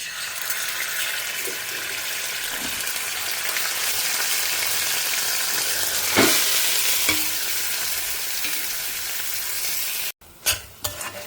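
Oil heating in a pan for dal palak hisses and sizzles in a steady broadband wash, with a few clinks of stirring and a brief louder crackle partway through; near and alone, no voices, cutting out abruptly near the end.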